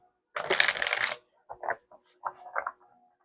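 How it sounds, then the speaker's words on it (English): A Heaven and Hell oracle card deck is shuffled by hand, a close dense riffle of cards followed by a few shorter soft shuffling bursts, with no talking. "I am going to shuffle"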